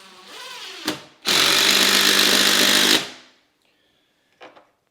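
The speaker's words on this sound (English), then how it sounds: "We got lucky here, so we are bolting the crap out of it." A power tool drives a bolt into a triple wall stud during a home theater speaker install, one loud steady whir of about two seconds, with a short burst before it and a faint clack after.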